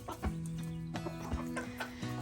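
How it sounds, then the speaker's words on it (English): Chickens cluck close by in a short burst of overlapping, uneven clucks and low calls. "We'll say hello to the chickens."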